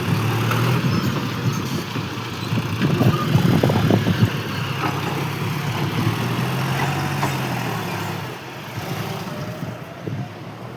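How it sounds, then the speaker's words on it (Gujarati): A tractor engine chugs steadily nearby while manure is loaded onto it on a farm, a low, continuous rumble that dips slightly near the end, with no talking. "હવે ટ્રેક્ટર ભર ખાતર ભરવાનું ચાલુ છે તમે જોઈ શકો છો"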